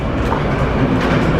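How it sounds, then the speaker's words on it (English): Cincinnati/Northern Kentucky (CVG) airport people mover train running, a steady, loud rolling rumble with rail clatter that fills the whole moment without any voices. "This train is approaching Concourse A."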